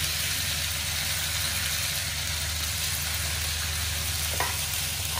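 Tomato and cashew sauté in a pan for paneer butter masala, giving a steady, even sizzle that holds unbroken throughout with no voices.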